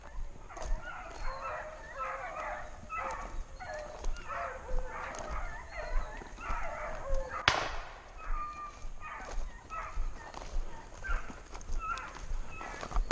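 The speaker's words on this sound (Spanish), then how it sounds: "No estás oyendo la perrita" Rapid yappy barks from a small hunting dog during a wild boar hunt repeat in quick bursts, with faint background chatter and a brief rasping noise partway through.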